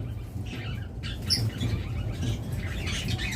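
Cockatiels in a pet bird shop give scattered squawks and chirps, close and moderately loud over a steady low room murmur.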